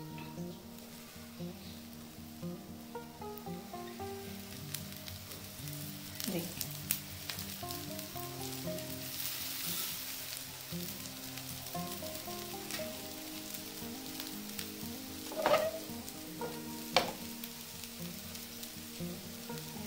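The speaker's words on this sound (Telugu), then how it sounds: "ఇప్పుడు ఈ ఉల్లిపాయ దోశ మీద ఇలా వేసుకుంటే ఉల్లిపాయ మెత్తగా మగ్గుతుంది ఆ వేడికి." Onion softening on an onion pesarattu (green gram dosa) in a hot pan produces a faint, steady sizzle with a few brief louder crackles and clicks, close but soft throughout.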